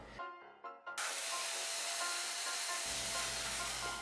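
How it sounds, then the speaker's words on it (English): A few clicks, then a hair dryer switches on and blows hot air onto foam with a loud, steady rushing hiss that continues to the end. "using the hairdryer apply heat"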